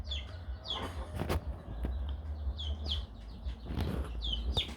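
Guinea fowl and chickens in a farm pen in Africa give repeated clucks and short chirping calls throughout, with a steady low rumble underneath and no talking.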